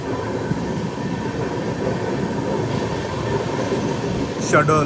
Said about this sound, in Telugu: బయలుదేరింది బండి